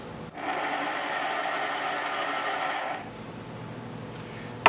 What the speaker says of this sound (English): I'm gonna use this microscopic file here to do that.